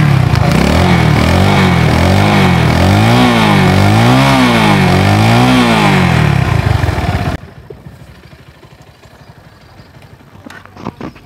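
A second-hand motorcycle engine runs loud and close with a rhythmic rising and falling revving pulse, then cuts off abruptly, leaving faint background noise.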